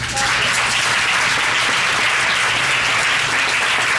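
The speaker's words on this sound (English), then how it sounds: "So give yourselves a round of applause, please" A festival crowd at Grand Rapids VegFest claps loudly and continuously, a dense sustained wash of applause filling the stretch with no break.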